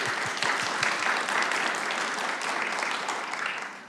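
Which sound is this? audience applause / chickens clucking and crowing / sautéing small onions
audience applause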